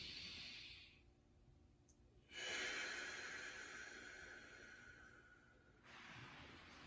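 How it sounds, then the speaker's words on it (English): Slow, deep breaths taken while holding a shoulder stretch, long airy inhales and exhales close to the mic, a quieter pause between them, with no talking. "and then we're just going to breathe"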